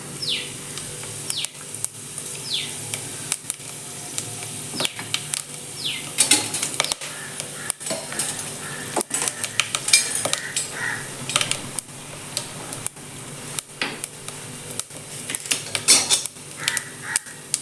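Cinnamon and cloves spluttering in hot oil for a cooking dish, with scattered crackles and pops over a low hiss and occasional clinks of metal utensils, steady and moderately close without speech.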